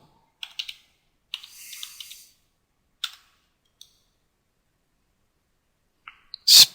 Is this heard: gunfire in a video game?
no